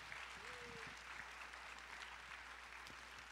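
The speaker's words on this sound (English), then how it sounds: "Applause for Stephanie and her team getting this done" Audience at a Catawba College opening assembly applauding, a steady, fairly faint wash of clapping with a brief voice near the start.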